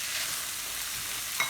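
Pad Thai with chopped egg sizzles steadily as it is stir-fried in a hot pan, a close continuous hiss with a brief scrape of the utensil near the end and no talking.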